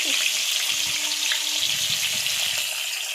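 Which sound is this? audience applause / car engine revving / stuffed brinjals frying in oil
stuffed brinjals frying in oil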